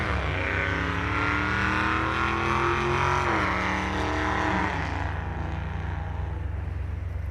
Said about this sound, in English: That was a really loud car. Probably a Hellcat.